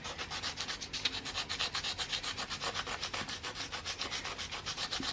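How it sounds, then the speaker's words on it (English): Sandpaper is rubbed by hand over a 2006 Suzuki GSX-R 600 K6 motorcycle fairing in quick, even back-and-forth strokes, a close, rhythmic scratchy hiss with no talking. "we'll come in here with a much less aggressive sandpaper"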